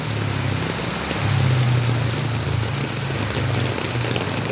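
Heavy rain pours down steadily in the Philippines during a downpour, a dense continuous hiss with a low rumbling undertone throughout, loud and unbroken with no voices.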